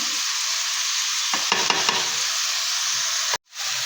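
Spices fry over low heat in a pan for an Afghani omelette, a loud continuous sizzle with a few spoon strokes stirring through it before a sudden brief cutoff near the end.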